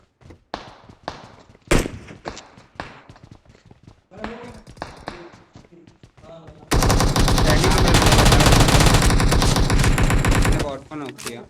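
Gunfire in the video game PUBG Mobile: scattered single shots early on, then a loud, sustained burst of rapid automatic fire for several seconds, with voices speaking over the game sounds.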